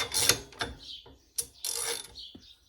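A ratchet clicks and metal parts clank while bolts on VW Super Beetle steering components are tightened, coming in several loud bursts of rapid ratcheting separated by short pauses, with no one talking.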